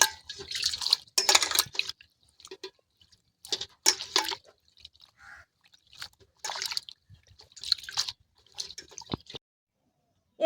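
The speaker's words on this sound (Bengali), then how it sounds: "লাউ পাতাটাকে আমি ভালো করে ধুয়ে নেব।" Bottle gourd leaves are rinsed under water in a kitchen, giving a series of short splashes and drips in irregular bursts, close and moderately loud, with quiet gaps between.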